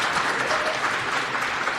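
Steady applause from a crowd at a speedrunning charity event, continuous clapping at an even level throughout.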